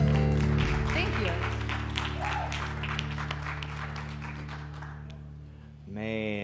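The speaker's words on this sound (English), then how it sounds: "give them another round of applause" An audience applauds under a sustained musical chord. The clapping fades toward the end, when a voice briefly comes in.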